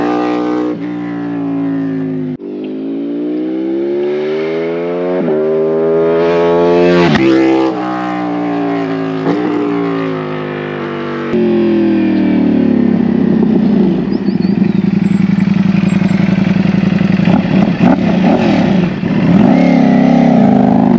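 Motorcycle fitted with an Akrapovic exhaust and Stage 2 flash doing flybys, loud engine rising and falling through repeated gear shifts and revs, then a deeper sustained roar as it passes close.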